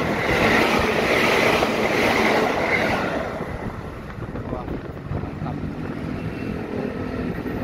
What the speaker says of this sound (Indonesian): Wah, keretanya baru. Kencang banget.